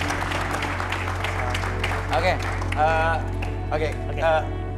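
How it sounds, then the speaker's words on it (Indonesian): A crowd applauding steadily, clapping mixed with voices speaking and some whoops over the top. "tepuk tangan dong buat kasih semangat buat dia"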